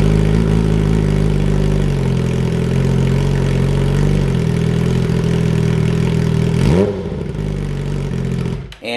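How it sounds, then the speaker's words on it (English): A 2017–2022 Suzuki GSX-R1000R motorcycle with no muffler runs loud and raw, holding a harsh, steady idle for several seconds before a sharp rev sweeps up and falls back, then cuts off near the end. "I'm sure you guys are wondering what a exhaust sounds like without a muffler on it"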